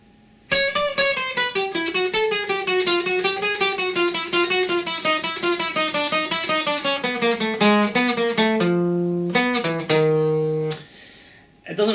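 A chromatic scale run up and down as a meandering jazz solo line, steady stepwise notes that sound aimless and unmusical, played alone with no talking, ending on a few held lower notes.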